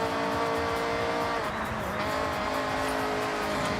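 A BMW with about 220 horsepower understeers through a corner in the racing game Forza Horizon 6, engine droning steadily as a sustained tire squeal rises, loud and close throughout.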